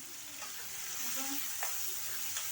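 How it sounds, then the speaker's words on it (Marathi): Finely chopped onions frying in a pan, a soft continuous sizzle and crackle with occasional light stirring scrapes, fairly quiet and close. "आपला कांदा इथे भाजत आहे"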